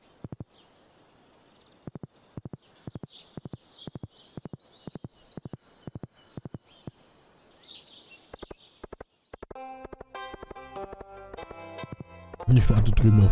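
Horse hooves clip-clop in the Stardew Valley video game, a steady run of crisp, evenly spaced game-sound taps, then chimes and a louder burst of game effects at the end.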